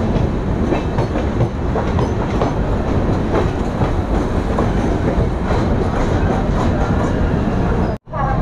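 A Mumbai local train runs along the tracks with a loud, continuous rumble and rhythmic clickety-clack of wheels, heard from on board, cutting off abruptly near the end.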